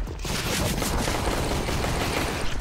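Sustained automatic rifle spray in Counter-Strike: Global Offensive (CS:GO), a dense, continuous burst of loud rapid gunfire lasting the whole stretch with no talking over it.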